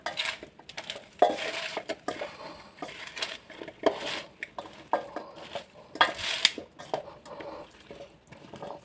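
Salted pickle pieces being mixed by hand in a bowl with turmeric, giving soft wet squelches and light clinks against the bowl in an irregular rhythm, close and fairly quiet.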